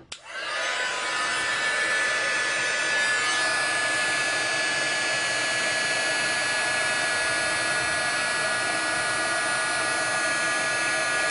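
A heat embossing tool switches on and blows hot air in a steady, loud, hissing whir close by while crafting a stamped holiday card, running unchanged throughout.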